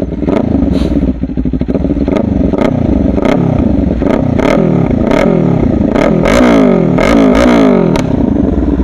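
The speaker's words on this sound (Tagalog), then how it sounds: "So sound check tayo. Ninja 500 SE aftermarket exhaust," Kawasaki Ninja 500 SE with a slip-on aftermarket exhaust revving hard and close, its engine note rising and falling in repeated throttle blips over a deep, full idle.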